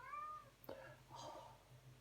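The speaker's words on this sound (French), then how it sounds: "Désolée, j'ai mon chat qui parle." A pet cat meows at home, a couple of short, clear calls close by in a quiet room, with a faint voice-like murmur in the background.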